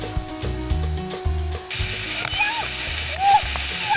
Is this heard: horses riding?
no